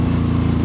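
Deep, loud idle rumble from a Victory Octane motorcycle fitted with an RPW full exhaust, a steady throbbing engine note held close with no talking.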